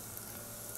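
Curry leaves sautéing in a pan for a village-style chicken salna, a steady close sizzle and fry crackle that runs without a break. No voices.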